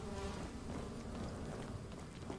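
Bees buzz steadily around a hive area in the video game Abiotic Factor, a continuous close, dense insect drone with no talk over it.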